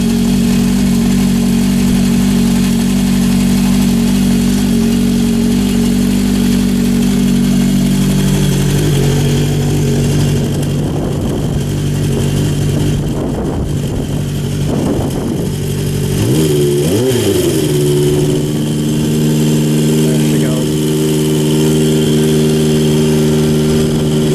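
A 1972 Honda CB750 Four inline-four motorcycle engine idling steadily and loud, with a brief rise in revs partway through before settling back to a smooth idle.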